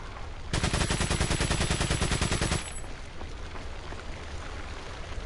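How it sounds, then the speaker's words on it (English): A burst of machine gun fire in the Resident Evil 4 video game, a dense rapid rattle lasting about two seconds and then cutting off, leaving quieter background game ambience. "shot you with a machine gun"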